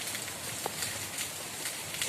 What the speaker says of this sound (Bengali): এসেই দেখছি একদম ঝমঝমিয়ে ভালোভাবে বৃষ্টি হচ্ছে